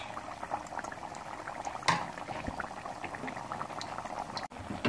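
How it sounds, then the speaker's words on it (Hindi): Potato smileys deep-fry in hot oil with a steady, dense bubbling sizzle that runs the whole time, close and fairly quiet, with no talking. "अच्छी तरह से इनको फ्राई करेंगे।"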